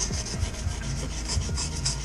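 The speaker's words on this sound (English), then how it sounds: "just try a little sanding" Steady scraping rasp of hand sanding on a scarred Husqvarna FE 350 motorcycle engine part after a spun bearing, repeated back-and-forth strokes close up at an even pace.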